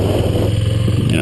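A motorcycle being ridden, a loud close engine putter with a steady low rumble and rhythmic pulsing over a brief moment.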